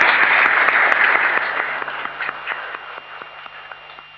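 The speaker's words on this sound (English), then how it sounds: "Final big clap for them." Audience applause at the 1982 Cadbury's National Exhibition of Children's Art, a dense, loud burst of many hands clapping that gradually thins and fades over several seconds.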